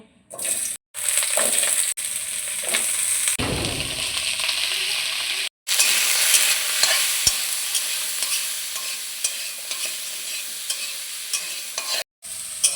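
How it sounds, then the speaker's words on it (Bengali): Vegetables frying in a pan with salt and turmeric, a steady close sizzle with stirring scrapes, broken by a few short silent gaps, while Bengali lentil-fritter curry is being cooked. "এবার সবজিগুলো লবণ হলুদ দিয়ে ভালোভাবে ভেজে নেব।"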